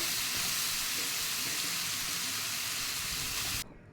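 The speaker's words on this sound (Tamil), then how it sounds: "பட்டர் கொஞ்சம் மெல்ட் ஆனதும் அதில் நாம் பன்னீரை போட்டு ஒரு நிமிஷம் இதை கிளறி விட்டிங்கன்னா போதும்" Paneer frying in melted butter in a pan: a dense, even hiss of sizzling fat, close and steady with faint stirring beneath, then cutting off abruptly near the end.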